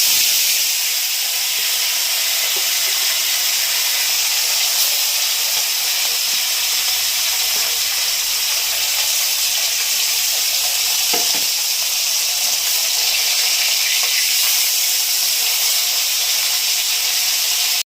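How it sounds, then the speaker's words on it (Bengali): Chengo fish frying in hot oil in a wok, a loud, steady, dense sizzle and hiss that carries on unbroken, with no voices. "তেল গরম হয়ে গেছে, মাছগুলো ভেজে নিচ্ছি।"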